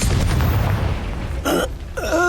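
A Confringo spell blasts in Hogwarts Legacy as a deep, rumbling burst of fire and impact filling the first second and a half, followed by brief sharper crackles and a short vocal grunt.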